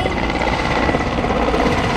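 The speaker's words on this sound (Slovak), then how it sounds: "Kým sa nám pripraví na štart vrtuľník Mi-17" A Mil Mi-17 military helicopter prepares for takeoff at the 2011 Sliač international air show in Slovakia. Its rotor and turbine roar is loud, close and steady, filling the whole moment with unbroken mechanical noise.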